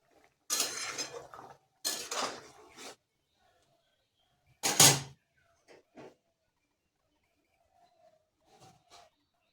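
Kofta curry with jackfruit being stirred and covered in a pot, with a few sharp metal clatters of lid and spoon against the pot, separated by quiet gaps, near and fairly loud, no talking.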